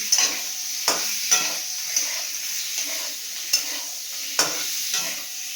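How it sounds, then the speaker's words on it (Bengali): Potatoes frying in a little oil and being stirred: a steady close sizzle broken by sharp utensil scrapes and clinks against the pan, about eight irregular strokes, with no voices. "ওই তেলে আলুটা দিয়ে দিলাম, তেল দিয়ে"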